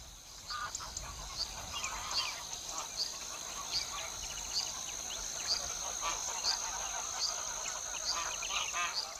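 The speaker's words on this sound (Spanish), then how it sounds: "Estos gansos son los ancestros de nuestros gansos domésticos." Wild geese, the ancestors of domestic geese, honk repeatedly in a flock, a continuous layered chorus of overlapping calls at moderate distance with no speech.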